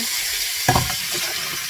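Pork fat rendering in a hot pan over medium heat for cracklings, with a steady broadband sizzle throughout and a brief louder crackling burst partway in, no voices.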